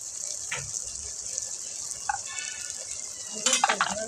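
Chicken fry being stirred in a pan, a soft continuous sizzle with occasional scraping and clinking of the spoon, louder stirring toward the end, heard close with no talking.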